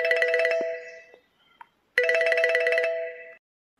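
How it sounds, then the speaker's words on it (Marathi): A mobile phone ringtone plays two loud bursts of bright electronic chiming, each lasting over a second, with a short silent gap between them. "सरपंच फोन आला, फोन पहा कोणाचा होते."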